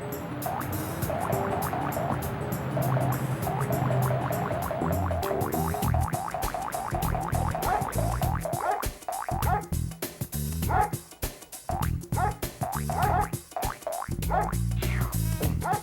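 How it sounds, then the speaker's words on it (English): Bouncy, upbeat level music from the PS1 game Frogger: He's Back! plays on and on, full of rhythmic plucky notes and boing-like effects, with no talking over it. "the music in this level is extremely catchy"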